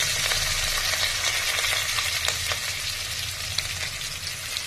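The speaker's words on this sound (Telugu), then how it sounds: "ఆవాలు వేగుతున్నాయి." Mustard seeds frying in hot oil: a dense, steady sizzling hiss with faint crackles, close and fairly loud, no talking.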